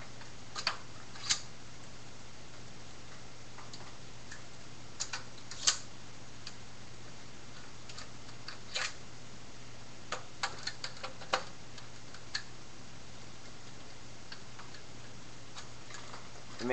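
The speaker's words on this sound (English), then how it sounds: "Take the screws out." Screws being taken out of an Xbox 360 console: a quiet run of small, sparse metallic ticks and clicks over a faint steady hum, with short bursts of clicking spaced irregularly.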